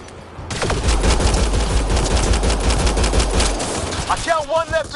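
Rapid automatic gunfire from a combat firefight in Mass Effect Andromeda on PS5, a dense, loud burst of overlapping shots lasting several seconds before tapering off into scattered bursts and electronic tones.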